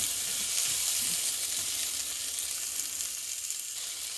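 Chunky tomatoes and other vegetables sauteing in a pan for a South Indian gotsu give off a steady, even sizzle with a faint hiss of frying throughout and no pauses.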